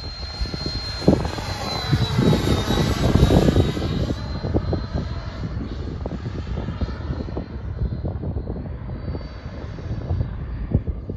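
A Freewing Yak 90mm electric ducted-fan RC jet, powered by two 4S 5000mAh packs on its maiden flight, whines steadily overhead with a sustained high-pitched fan tone that slowly shifts in pitch as it passes, loud and continuous.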